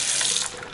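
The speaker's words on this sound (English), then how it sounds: "I'm just going to show you the water pressure coming out here" A bathroom faucet runs water into a sink with a steady, close hiss of flowing water and no talking.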